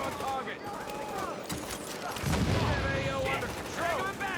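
Video game gunfire, with bursts of shots and rattling fire under continuous excited talk, mixed with booms and other game effects.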